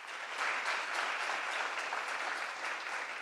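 Audience applause at a school board of education meeting, a steady round of clapping from a room of people lasting a few seconds at moderate volume, with no talk over it.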